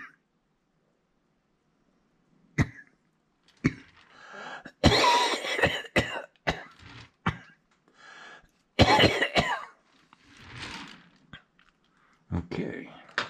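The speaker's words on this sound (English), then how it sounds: "all you do is lay in bed coughing." Repeated harsh coughs, some in quick clusters, close and fairly loud, with pauses of quiet between fits.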